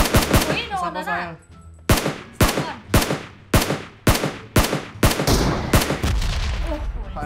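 Rapid bursts of gunfire in the mobile battle-royale game PUBG Mobile, about nine sharp loud shots spaced roughly half a second apart, with short bursts of talk early on and in the gaps.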